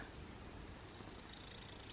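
Black cat purring close to the microphone, a soft, continuous rumbling purr that stays steady throughout, quiet and alone without any voices.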